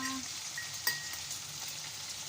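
Small chicken pieces fry quietly in a pan, a soft continuous sizzle with one brief clink, fairly faint and steady throughout.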